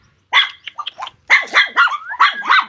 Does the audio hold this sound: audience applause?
no